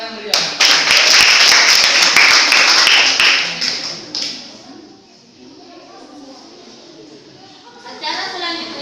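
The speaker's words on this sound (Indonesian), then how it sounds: "Sekali lagi berikan tepuk tangan yang meriah." Audience applause after a student group's performance at a university accounting education showcase, loud close clapping for about four seconds that dies away into quieter room murmur, with a voice near the end.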